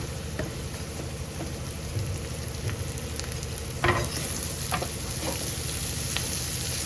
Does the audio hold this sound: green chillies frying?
yes